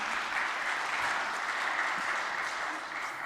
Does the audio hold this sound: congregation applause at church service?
yes